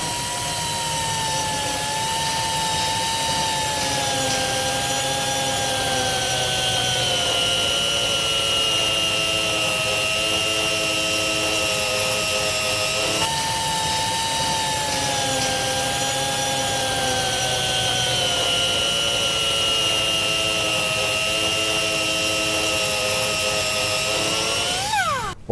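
Angle grinder running a 4.5-inch TFT milling disc as it grinds and bevels metal, a loud, steady high-pitched whine with continuous tonal overtones that holds for the whole stretch, with slight pitch dips under load and no voices.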